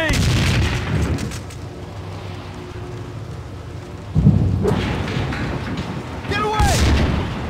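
A grenade explodes in the Max Payne 2 shooter, a deep rumbling boom that surges midway through a continuous roar of gunfire and battle noise, with shouted voices over it.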